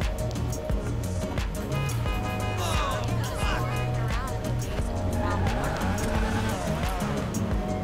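Classic sports car braking hard in GTA 5, engine roar and layered game sound effects with tire squeal, loud and continuous throughout with no pauses.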